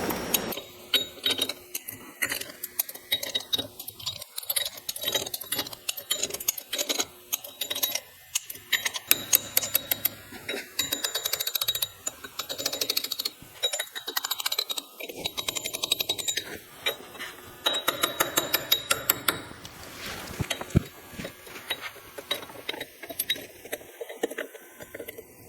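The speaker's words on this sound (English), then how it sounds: "I'm going to go put this in my soft jaw vise and torque all of my bolts." Bolts on a 1970 Porsche 911E intermediate shaft being torqued in a soft-jaw vise, giving repeated close ratchet clicks in steady bursts with metallic mechanism rattles, no talk.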